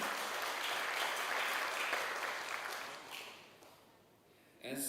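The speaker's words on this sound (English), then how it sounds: "Allow me for an applause for you all" An audience of young participants applauds at a governor's address, a soft wash of clapping that fades gradually to near silence before a brief louder sound at the very end.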